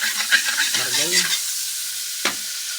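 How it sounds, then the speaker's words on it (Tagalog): Margarine is stirred in a hot frying pan before shrimp go in, a close crackling sizzle with a few scraping strokes that fades to a quieter hiss, then one sharp scrape near the end. "Halu-haluin mo lang yung kawali saka yung margarine."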